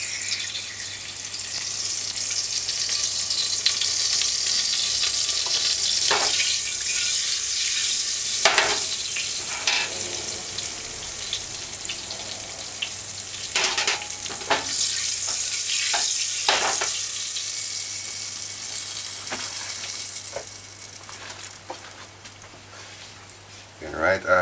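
Curry and oil sizzle in a pot while curried turkey neck is being cooked Jamaican-style, giving a steady, loud frying hiss that lasts throughout, broken by occasional stirring knocks and scrapes.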